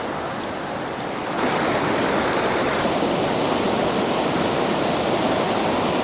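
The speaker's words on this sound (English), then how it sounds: "this is the part of the video where we just give you free ASMR, as the brook just sounds great" A mountain brook in the Adirondacks rushes steadily over rocks, a dense, even wash of flowing water that swells slightly louder after the first second and continues unbroken with no voices.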